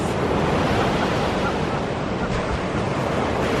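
Sea waves wash continuously onto a winter beach at close range, a loud steady roar of surf mixed with wind noise and no voices.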